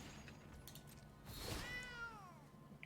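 A cat token's game sound effect in the card game MTG Arena: a short, clear meow-like cry with a rising then gliding tone, standing out over a faint background hum, with no talking.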